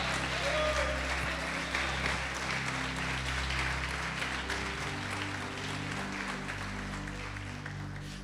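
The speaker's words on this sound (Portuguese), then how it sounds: "Pode aplaudir e glorificá-lo." A church congregation applauds during a sermon, dense sustained clapping that fills the whole stretch at a steady level, slowly easing toward the end, with a low hum underneath.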